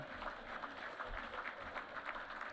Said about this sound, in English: Come on, you can clap a little bit louder than that.